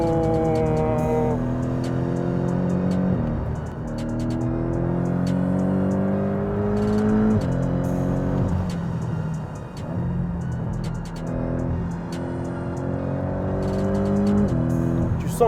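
Porsche 718 Boxster GTS on a wet road, its engine revving hard through repeated upshifts, with rising pitch sweeps that break at each gear change, loud and close, and brief dips between pulls.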